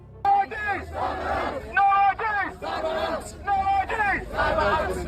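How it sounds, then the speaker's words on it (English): Crowds protesting outside the Labour conference in Liverpool chant and shout in loud repeated bursts, many voices rising and falling together over a background murmur. "with crowds protesting outside of the Labour conference in Liverpool, demanding an end to the digital ID"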